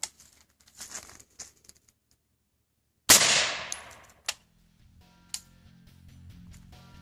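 An AR-15 rifle fires a single .223/5.56 round at a level 3 bulletproof vest, one loud sharp crack with a ringing decay after a few quiet clicks and handling noises, followed by fainter knocks and a low steady hum.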